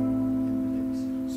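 A guitar chord, a C6 voiced with A in the bass, rings out sustained and even at moderate volume, close and alone with no talking.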